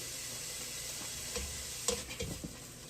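Finely grated onion sizzles steadily as it cooks down in a pan, a constant crackling hiss with a few soft stirring scrapes and taps, no voices.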